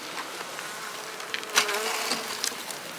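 Honey bee colony buzzing steadily at the hive, a close, continuous drone with a few brief louder passes of individual bees near the microphone, no voices.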